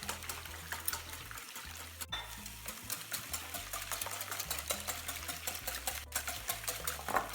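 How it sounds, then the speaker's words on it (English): Egg mixture with heavy whipping cream is whisked briskly for fluffy mini frittatas, producing a continuous rapid rhythmic beating against the bowl with no voices. "add 1/4 cup of heavy cream, whipping cream, to this. And make this egg mixture really fluffy."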